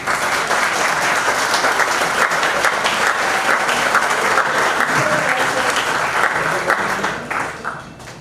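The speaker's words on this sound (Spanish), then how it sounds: "a quien le pido un aplauso en mi casa" Audience at a conference on ethics and bioethics breaking into steady, full applause that carries at an even level, then tapers off in the final second.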